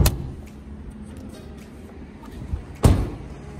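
Hood latch of a 5th gen Ram truck popping open, a single sharp clunk near the end over low garage rumble, with a smaller knock just before it.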